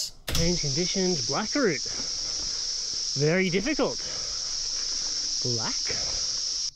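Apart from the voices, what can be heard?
cicada noise in outdoor recording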